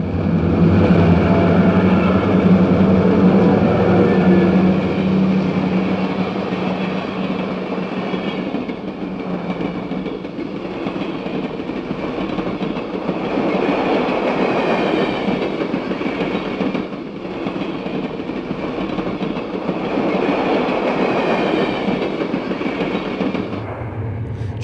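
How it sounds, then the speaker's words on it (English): A Union Pacific passenger train rumbles steadily through a junction, wheels clattering over the rails with a continuous heavy roar that swells and eases as it gains speed, no voices. "Train 104, the combined cities train, eases through the junction and then gains speed as it races east."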